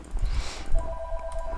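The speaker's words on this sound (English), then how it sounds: "When my house phone rings" A house phone rings close by, a short electronic tone over a rumbling background noise.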